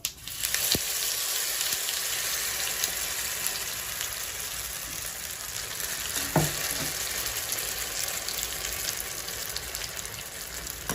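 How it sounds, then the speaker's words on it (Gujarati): Handvo batter of bottle gourd goes into hot oil tempered with sesame seeds and a red chili. A loud, steady, close sizzle continues without pause, with a brief clunk near the middle and no talking. "હવે આપણે જે ખીરું છે તે એડ કરી દઈશું"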